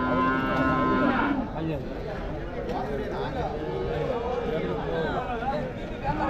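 Cattle at the Vaniyambadi open cattle market, with a pair of cart bullocks nearby; a long moo opens, followed by a busy market hubbub of chatter and voices close by.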